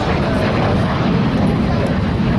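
A T-33 Shooting Star jet at the 2014 Tinker AFB air show makes a loud, continuous broadband engine roar that holds steady throughout, with talk mixed in under the noise.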